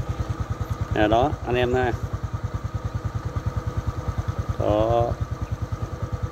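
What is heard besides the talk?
motorcycle engine idling after tune-up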